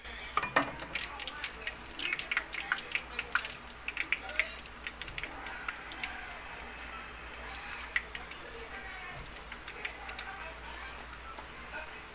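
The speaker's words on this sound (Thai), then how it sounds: "น้ำมันก็ร้อนแล้วนะคะ ทุกคนเราจะมาลองทอดดูเนาะ" Purple sweet potato egg balls frying in hot oil, giving a soft, steady crackling sizzle with scattered small pops and ticks, close by and moderately faint.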